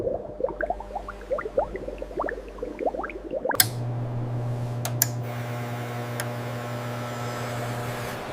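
Water bubbles and gurgles through the filtration of frog tanks at a frog leather farm, then gives way to a steady low mechanical hum with a couple of sharp clicks.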